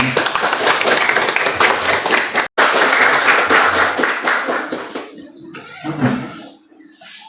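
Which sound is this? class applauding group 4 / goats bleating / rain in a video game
class applauding group 4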